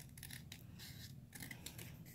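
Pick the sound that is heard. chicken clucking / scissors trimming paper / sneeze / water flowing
scissors trimming paper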